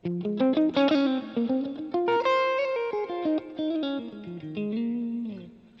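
An electric guitar run through delay or reverb and plugged straight into an audio interface plays a fast sequence of sustained, ringing notes with smeared echo tails, loud and alone.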